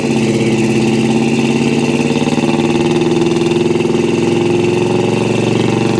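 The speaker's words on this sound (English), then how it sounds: "Hear the exhaust." A 1972 Pontiac Grand Prix sits at a steady idle, its exhaust giving a loud, even, continuous rumble throughout with a slight pulsing lope and no talk over it.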